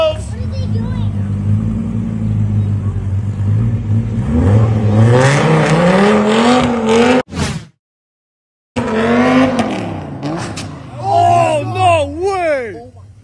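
A Ford Mustang revs and accelerates hard from a standstill, its loud engine rising in pitch under crowd noise. The sound cuts to silence for a moment, then returns with engine roar, shouting and chatter.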